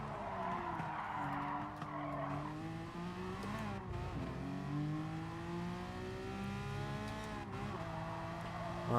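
Car tires skid and squeal under late braking in GT Sport, driven with a steering wheel: a long, loud wavering screech layered over engine drone that rises and falls for several seconds.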